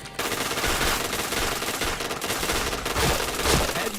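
Sustained machine-gun fire in a shooter video game, a continuous rattling stream of shots with a couple of heavier bursts near the end, loud and close with no talking.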